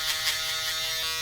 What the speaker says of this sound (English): we'll be using the balder to get the fade nice and tight